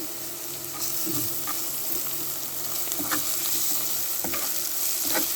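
Garlic frying with browned onions in a pan for Egyptian koshari, steady close sizzling with scraping stirs of a spoon breaking through now and then.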